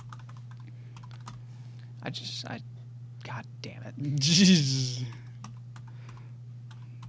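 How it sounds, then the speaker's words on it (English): Someone types on a computer keyboard, giving irregular clustered key clicks over a steady low electrical hum, while a person mutters and grumbles briefly in the middle. "This keyboard fucking sucks."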